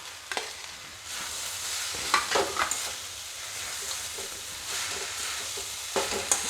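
Cabbage and fish heads fry in a pan, a close, continuous sizzle broken by repeated scraping, clattering stirs of a spoon against the metal.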